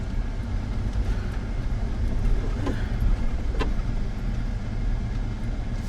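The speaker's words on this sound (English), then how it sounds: "It is a rough, bumpy ride down here." A vehicle drives down a rough, bumpy road, its low engine and tyre rumble loud and continuous, with occasional rattles and jolts from the uneven surface and no voices over it.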